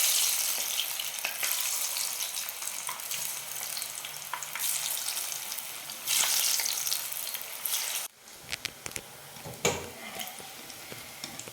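Bottle gourd dumplings deep fry in hot oil with a dense, steady sizzle, then a sudden drop to quieter bubbling crackles and a few sharp spatters near the end.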